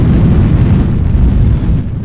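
Airstrike explosions in MechWarrior Online rumble as a loud, continuous low roar of blasts. The rumble holds steady across the whole stretch with no clear breaks, dipping only slightly near the end.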